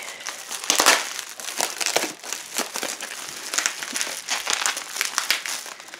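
Plastic bubble wrap crinkling and crackling in close, irregular bursts, handled up close with no talking.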